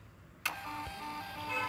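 A rechargeable portable Bluetooth mobile printer runs a short burst as it prints a bill, starting abruptly with a sharp onset and then a steady mechanical whir close by.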